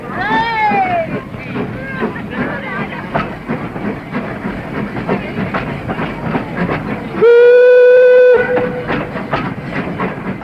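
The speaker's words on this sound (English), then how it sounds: "cheering as the train pulled away from the platform" A steam train chugging with rhythmic chuffs and clatter, a crowd murmuring around it, then a loud, sustained whistle blast before it rolls on.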